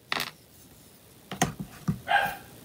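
Sophie, a dog inside a house, barks at the window in a few short, sharp yaps spaced irregularly: one early bark, then a quick cluster of three or four, moderately close in an otherwise quiet room.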